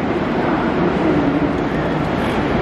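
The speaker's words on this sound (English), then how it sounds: "It also looks like there's a HCMT arriving now as well" Loud, steady rumble of an HCMT electric train arriving at Southern Cross station, Melbourne, with broadband mechanical roar and no voices.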